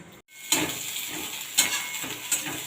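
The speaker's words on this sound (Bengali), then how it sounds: "একটা শুকনো লঙ্কা কেটে দিয়ে দেব এরপর দিয়ে দেব পেঁয়াজ কুচি" Dried chili and chopped onion hit hot oil with a loud sizzle that swells sharply three times as they are stirred in a pan, close and prominent, with no talking.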